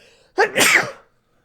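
A single loud sneeze bursts out after near silence, a sharp intake then a broad explosive burst lasting about half a second before fading out.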